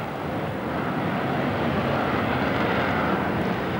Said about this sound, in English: Unlike the Royal Navy's Sea Harrier, the plane has 3 engines and not 1.